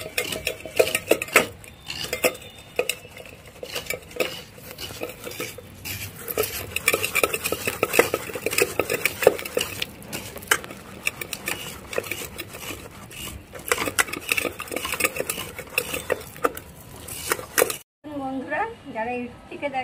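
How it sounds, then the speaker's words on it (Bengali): Palm fruit pulp rubbed against a metal plate by hand, a continuous close scraping and rasping with clinks of metal, steady and busy for most of the clip before stopping abruptly; a voice talks over it. "এই যে ঘষার জন্য ভাজি থালাটা নিয়ে নিয়েছি।"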